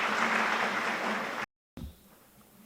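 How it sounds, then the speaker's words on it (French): Audience applause at an academic political science panel day at a university, a dense, steady wash of clapping that breaks off sharply into silence, then resumes more faintly and thinly. "Si vos applaudissements, s'il vous plaît."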